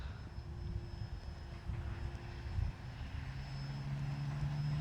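An Arrows RC Trekker model airplane flies overhead, its electric motor and propeller giving a steady distant drone that swells into a rising, higher whine toward the end.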